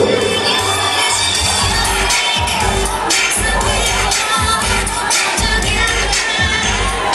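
Loud crowd cheering and shouting at a beauty pageant runway in the Mata Sul region of Pernambuco, Brazil, sustained and dense throughout with children's shouts and bangs mixed in.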